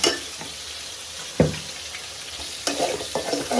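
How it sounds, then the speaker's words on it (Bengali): Turmeric, cumin, chili and coriander powder are sautéed in hot oil with a steady frying hiss, while a utensil scrapes and knocks against the pan a few times, close up and without speech. "ভালোভাবে কষাই নিব"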